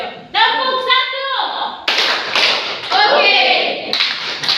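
Schoolchildren in a classroom run through a clapping routine, sharp bursts of many hands clapping in short groups, loud and close, with a voice and chanting between the claps.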